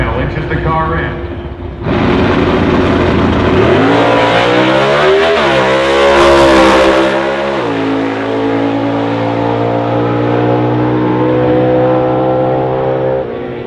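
Dodge Hemi drag race cars at the 2018 Dodge Hemi Shootout launch hard from the line, engines jumping to a loud roar and climbing steeply in pitch through the gears, then holding a sustained high-rev howl, with commentators talking over the noise.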